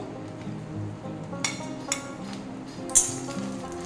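Grated coconut and cashews frying in mustard oil in a pan, a soft steady sizzle with a few sharp clinks of a utensil against the metal.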